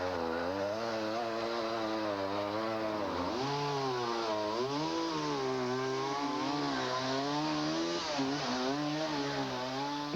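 A chainsaw cuts through large tree limbs in a backyard cleanup, its engine revving and bogging in uneven waves as the blade bites into the wood, loud and close with no talking.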